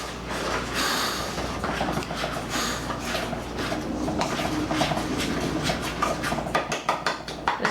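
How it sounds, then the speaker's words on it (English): A spoon steadily scraping and stirring food inside a container, making continuous rustling and scraping with scattered small clinks throughout. "Get another spoon and mix it up"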